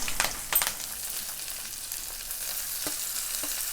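Rice stirred in a pan with ghee, cashews, cumin, green chilli and curry leaves, a close, steady sizzle with a couple of scraping stirs.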